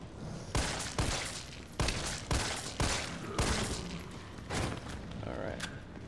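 Gunfire while shooting zombies in Resident Evil 3 Remake, a series of sharp, loud shots about every half second to second, each trailing into a short decay, with no talk.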